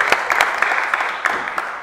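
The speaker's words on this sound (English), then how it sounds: "Round of applause, Cornelia." Brief applause and scattered clapping from a live podcast audience at a sneaker event in Dubai, a short burst of claps rising and settling over under two seconds.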